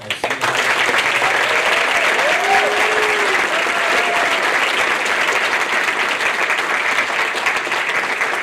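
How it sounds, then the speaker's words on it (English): Sustained audience applause for graduating seniors at a high school senior hall of fame event, loud and steady throughout with a dense crowd clapping texture and a few brief vocal sounds early on. "Please join me one more time in a round of applause for all of our senior."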